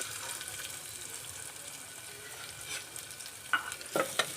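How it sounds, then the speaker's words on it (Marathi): Onion added to hot oil in a pressure cooker for veg pulao, a faint, steady low sizzle with a few sharper clinks and scrapes near the end, quiet and close, no voices. "तेल आपलं छान गरम झालं आहे। आता यामध्ये आपण हा कांदा घालून घेणार आहोत।"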